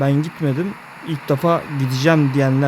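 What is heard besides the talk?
No distinct noise like a dog, phone or traffic.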